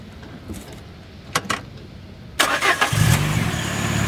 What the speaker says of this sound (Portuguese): Você consegue ligar o carro lá pra gente dar uma... Consigo, sim. Ouvir o ronco desse escapamento aí de 4 polegadas?